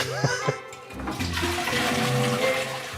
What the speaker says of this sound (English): Toilet flushed.